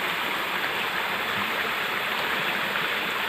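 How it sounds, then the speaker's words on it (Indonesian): Natural spring stream flowing strongly in a wild outdoor setting, a steady, dense rushing and splashing of water, close and continuous without any talk. "Ini masih deras sumbernya, masih asri sekali, alami ya ini."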